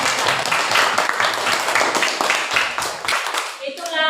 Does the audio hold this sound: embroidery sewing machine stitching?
no